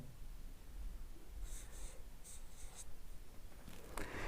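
Math is written on a board in a few short scratchy strokes against a steady background hiss, with no voice.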